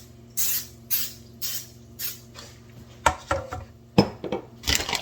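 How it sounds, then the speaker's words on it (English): Non-stick cooking spray blasted into a springform pan in a kitchen, several short bursts of hiss in a row, followed by metallic clatter and handling of the pan. "go ahead and hit it with some non-stick"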